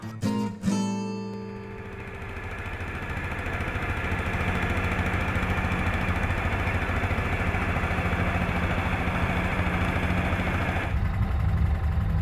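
A Cub Cadet tractor pulling small children around a farm runs steadily after a few sharp start-up knocks, a close, continuous mid-pitched engine drone with a faint whine that holds level throughout.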